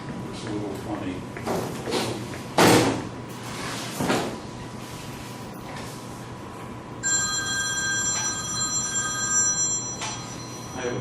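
A telephone bell rings in a lecture hall, a sustained multi-tone ring that comes in partway through and continues to the end. Before it starts there are knocks and clatter, and someone talks.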